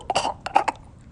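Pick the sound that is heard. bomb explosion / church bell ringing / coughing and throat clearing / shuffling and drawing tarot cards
coughing and throat clearing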